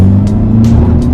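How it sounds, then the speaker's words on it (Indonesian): Toyota Veloz Hybrid accelerating hard in power mode on a sandy test course, a short loud burst of engine and road roar close inside the car. "sebelum kita tes akselerasi ke depan, kita coba masuk ke power mode-nya dulu Sobat Setir"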